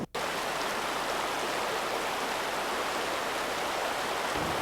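A wide, steep whitewater river rushes in a continuous loud broadband roar, steady and unbroken throughout.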